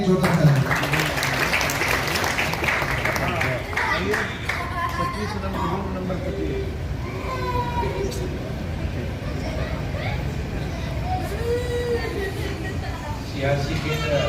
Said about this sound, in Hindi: डॉक्टर वीरेंद्र कुमार सर के लिए एक जोरदार ताली।